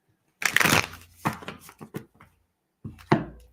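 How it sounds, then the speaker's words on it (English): Tarot cards riffle and rustle in a few short bursts, a longer shuffle followed by quicker ones and a final riffle, close up with no talk. "Shuffle 2 more decks"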